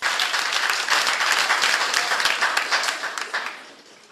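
An audience at a public lecture breaks into applause, a dense and loud wash of many hands clapping that holds steady for several seconds and then thins out toward the end.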